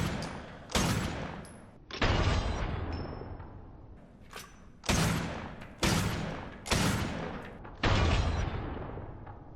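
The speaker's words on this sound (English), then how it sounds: "now let's try the Ramrod ammo." Ramrod ammo fired from a weapon in the video game Resident Evil 7, six loud, booming shots at irregular intervals, each with a sharp attack and a long decaying tail, heard alone without talk.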